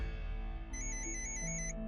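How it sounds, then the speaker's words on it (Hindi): A phone rings somewhere nearby, a faint electronic ringtone with tonal beeps and shifting pitches over a low background hum, no voices. "फोन तो कहीं आसपास ही बज रहा है माँ,"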